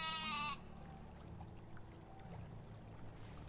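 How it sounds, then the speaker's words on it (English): A sheep in the medieval farming game Medieval Dynasty gives one short, clear bleat at the start, then only quiet game ambience follows. "Oh, sheeps."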